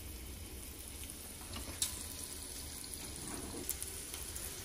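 Vegan meat substitute frying in olive oil for a Philly cheese steak, a steady low sizzle running throughout at moderate level with a couple of faint clicks and no talking.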